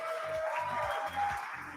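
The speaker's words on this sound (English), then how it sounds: "Let's give them a huge round of applause." An audience at the IAA Olive Crown Awards 2023 claps in a soft, continuous patter. Faint tonal sounds ring over the top.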